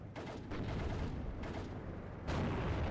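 Distant rattling machine-gun fire from a WWII Maxim gun in the Steel Division strategy game, forming a dense continuous battle din with a louder burst near the end, no talk over it.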